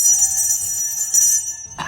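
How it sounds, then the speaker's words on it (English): A bell rung once, giving a bright, sustained metallic ring with steady overtones that slowly decays, then a short sharp clatter at the very end. "Ring the bell."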